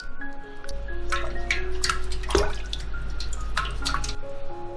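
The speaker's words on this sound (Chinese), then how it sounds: "鳝鱼先用温水洗掉表面的粘液" Warm water runs and splashes over an eel as its slime is washed off, with a steady tap flow beneath irregular drips and splashes close by.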